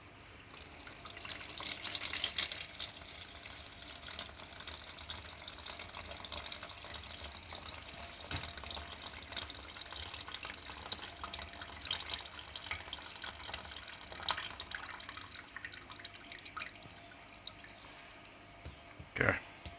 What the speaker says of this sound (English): let me just pour it off quickly